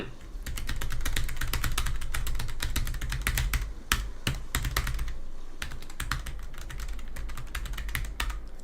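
Steady, close typing on a Logitech G913 TKL low-profile mechanical keyboard, with rapid clicky keystrokes in quick bursts and a few louder, heavier key hits, and no talking.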